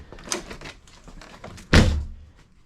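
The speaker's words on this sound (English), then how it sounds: "When it is up in the air, I have no problem opening and closing the doors." The door of a C4 Corvette raised up on jack stands is worked open and shut, with soft latch clicks and handling noises before one solid, close thunk as it closes.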